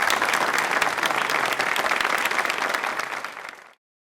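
Studio audience at a televised quiz show gives a dense, hearty round of applause that holds steady and then fades out and stops abruptly near the end.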